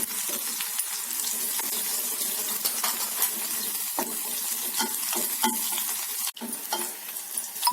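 Mustard seeds, garlic and chillies sizzle steadily in hot oil with a crackling, popping hiss, stirred throughout and continuous for the whole stretch, close and fairly loud with no talking.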